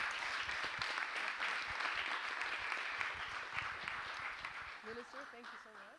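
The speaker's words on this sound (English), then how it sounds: "Can we get a big round of applause, everyone, for His Excellency Minister Bello Mohammed." Audience applause for a Nigerian water and sanitation minister at a heads-of-state leadership event, steady clapping from a large room, fairly distant, with a voice beginning to speak faintly near the end.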